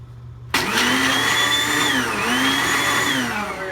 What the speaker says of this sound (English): take the blender, put the lid on, and whirl it until it's nice and powdery